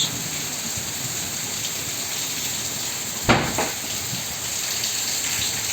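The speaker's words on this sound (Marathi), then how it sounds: "उमरगा शहर आणि तालुक्यामध्ये मुसळधार पाऊस" Heavy torrential rain pouring down over Umarga town in a continuous dense roar, with a brief louder crash of water partway through.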